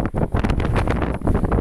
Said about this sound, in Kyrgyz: Шамалдын секундасы 30 метрге жетип атат.